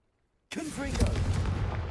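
A Confringo blasting-curse explosion in the video game Hogwarts Legacy bursts in suddenly after silence and rumbles on loudly with a crackling tail, while a voice speaks over the blast.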